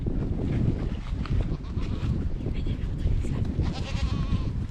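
Goats being moved out of a pasture bleat amid a busy, rumbling outdoor background, with calls rising near the end over steady low noise.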